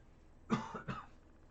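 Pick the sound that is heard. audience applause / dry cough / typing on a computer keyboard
dry cough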